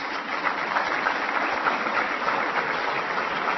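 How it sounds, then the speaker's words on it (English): A crowd in Council Bluffs, Iowa applauds during a vice-presidential speech. The clapping is steady and moderately loud, with no voice over it. "Give yourselves a round of applause."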